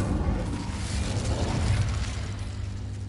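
Incendio fire spell cast in Hogwarts Legacy, a loud rumbling burst of flame that swells and sustains as a heavy whooshing roar for a few seconds, with no speech.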